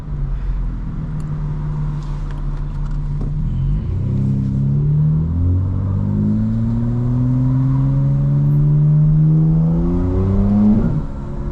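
A 2025 BMW M4 Competition xDrive engine pulls hard from inside the car, its rumbling note climbing with each upshift as it moves from first to second to third gear, steady and close.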